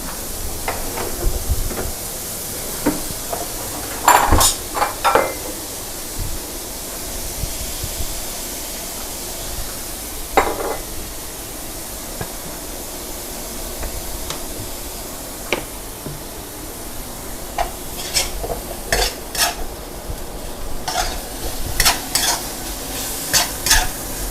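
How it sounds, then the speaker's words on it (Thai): Minced pork for pad kaprao, seasoned with soy sauce and oyster sauce, sizzles in a hot pan while a spatula scrapes and stirs it dry, with intermittent metallic clanks and a steady frying hiss. "จะคั่วให้แห้งอย่างนี้นะคะ"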